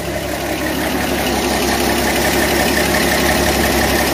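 A 1966 Chevrolet C10 pickup engine idling on a newly fitted carburetor: a steady, close, loud rumbling idle with even pulsing, holding constant throughout.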